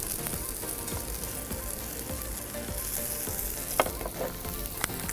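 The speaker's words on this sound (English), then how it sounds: "So the next into the pan, we're going to add the spring onions," Spring onions sizzle and fry in a pan with onions and vegetables, a loud, steady crackling hiss with occasional stirring clatters, close by and without talk.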